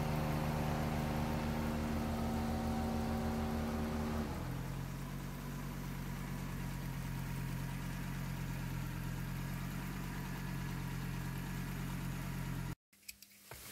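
Audi 200 engine running cold the morning after an engine flush, a steady idle with a deep hum that settles lower partway through, continuous until an abrupt cut near the end.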